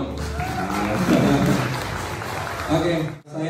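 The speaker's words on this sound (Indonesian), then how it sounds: "Tepuk tangannya dulu dong." Audience applause fills the room at a Yamaha PMC Indonesia pop piano and keyboard competition, a steady, dense patter that sounds close and runs nearly the whole moment, with voices talking over it before it briefly drops out near the end.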